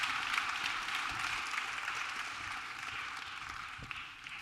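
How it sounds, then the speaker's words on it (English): A conference audience at the Bitcoin Collective Conference 2022 gives a round of applause, heard as a steady, soft wash of clapping that stays fairly faint and even throughout, with no talking. "Thank you, everyone, for that wonderful round of applause."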